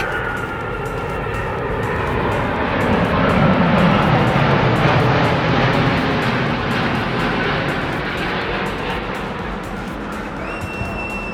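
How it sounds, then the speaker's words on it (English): Two Airbus A340 airliners fly side by side at very close range, producing a loud, continuous jet engine roar that swells gently toward the middle and holds steady throughout. "Aerobatics from two pilots flying Airbus A340s. Parallel flight at very close range."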